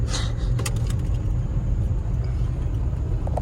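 A Ford Ranger pickup drives along a gravel road, with a low steady rumble and occasional rattling, scraping stone crunches close by.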